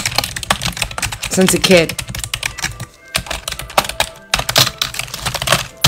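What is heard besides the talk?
typing on a computer keyboard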